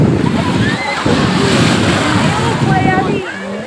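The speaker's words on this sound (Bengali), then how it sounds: "আমরা চললাম সবাই এই সমুদ্রের ঢেউ খেতে" Sea waves roll and slosh at Digha beach in a loud, steady wash of surf, with voices talking over it throughout.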